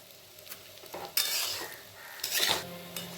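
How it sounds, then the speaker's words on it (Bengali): A spoon scrapes and stirs rice grains in a pan of oil and ghee with soft sizzling, a few quick strokes in close succession. "চালগুলোকে আমি তেল আর ঘিয়ের মধ্যে খুব ভালো মতন নাড়িয়ে নেব।"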